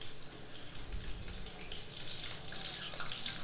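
Vegetable cheese cutlets made with cauliflower and spinach fry in a pan with a soft, continuous sizzle and crackle, close but fairly quiet, with no talking.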